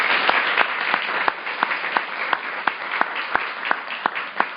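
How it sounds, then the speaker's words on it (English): Audience at a 2013 enterprise collaboration conference panel applauding the participants, a dense steady wash of clapping with a few sharper claps standing out, sustained and fairly loud. "A hand of applause for everybody,"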